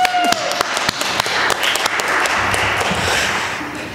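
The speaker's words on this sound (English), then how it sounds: "Let's give them a round of applause." A church congregation claps in steady, dense applause throughout, loud and close, with individual sharp claps standing out at the start and the sound thinning slightly toward the end.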